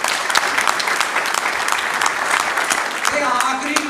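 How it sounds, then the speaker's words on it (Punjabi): Audience at a film festival in Bathinda claps steadily in sustained applause, a dense, close wash of many hands for the full length with no break. "ਉਹਨਾਂ ਦੇ ਨਾਂ 'ਤੇ ਤਾੜੀਆਂ ਮਾਰੋ।"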